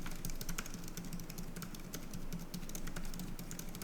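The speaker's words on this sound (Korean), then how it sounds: "타이핑을 해보겠습니다." Rapid, steady typing on a compact keyboard cover for a Samsung Galaxy Tab S11 tablet, a dense run of light plastic clicks and taps close by, with no voices.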